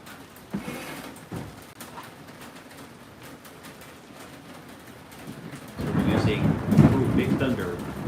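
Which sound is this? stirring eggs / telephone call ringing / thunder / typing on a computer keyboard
thunder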